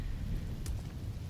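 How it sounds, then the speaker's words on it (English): A thunderstorm with rain in Diablo 4, a steady low rumble and hiss of rainfall with a faint crack partway through, fairly quiet and unbroken. "So let's enjoy the storm a moment."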